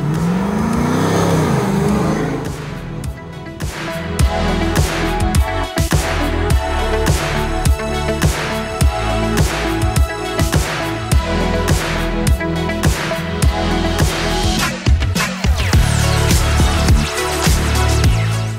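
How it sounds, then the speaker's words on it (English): A 1989 Land Rover Defender 90 soft top with a 430-horsepower LS3 V8 and six-speed automatic revs hard and repeatedly, loud and close, with deep rumbling swells and sharp throttle blips in a steady rhythm and no talk. "This D90 is powered by our LS3 430 horsepower engine with 6-speed automatic transmission."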